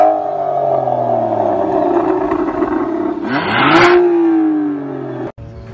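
An Aston Martin Vanquish S engine in sport mode, idling with a deep hum and then revving sharply with a rising, loud snarl around the middle before settling back and cutting off abruptly near the end.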